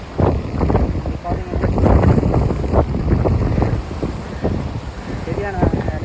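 Strong wind buffets the microphone at Point Pedro beach as sea waves crash and surge, a loud continuous roar and rumble with gusty swells throughout.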